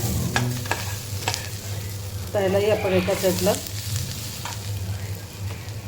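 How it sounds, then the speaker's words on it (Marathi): Onion, garlic and potato fry in a pan as they are stirred, a continuous crackling sizzle with scraping strokes; someone speaks briefly over it midway. "कांदा लसूण आणि आलू हे व्यवस्थित भाजून घ्यायचं आपण"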